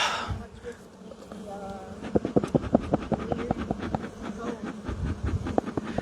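Honey bees buzzing around an open hive during an inspection, a low, persistent hum close by, with a person talking over it.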